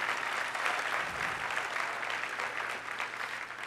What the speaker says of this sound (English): Give all the bronzes a round of applause.